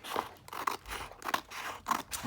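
Scissors snip through tissue paper, cutting out a design, in a steady run of five or six crisp, papery cuts with soft rustling between them, close by and alone.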